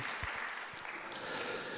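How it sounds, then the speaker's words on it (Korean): A church congregation claps together in soft, continuous applause, distant and faint, with a few sharper claps near the start. "우리 큰 박수로 영광 올려드리겠습니다"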